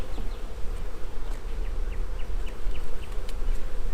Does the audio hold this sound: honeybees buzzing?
yes